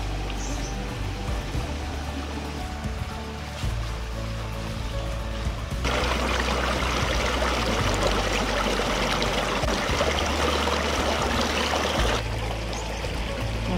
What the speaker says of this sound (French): Ça forme comme une petite cascade ici.